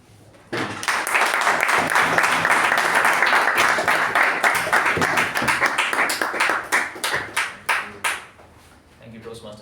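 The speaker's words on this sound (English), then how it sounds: "I'm sure you heard that applause right now" Applause at a Toastmasters meeting begins abruptly and rings steadily, then thins into a few separate, spaced claps before stopping.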